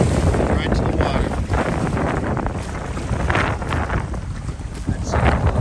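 Strong wind buffets the microphone beside open water on the Appalachian Trail near a dock and swimming area, a continuous roaring gusty rush with low-end thumps and no clear speech.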